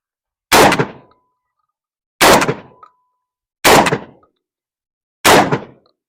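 Four loud, sharp blasts from a Tokarev TAR12 shotgun firing 5-shot shells, spaced about one and a half seconds apart, each with a short decaying tail and silence between, no talking.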